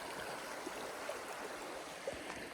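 Creek water flows steadily below a trail crossing near Green Lakes Trailhead on Fall Creek, a constant broadband rush with faint splashes and no talk.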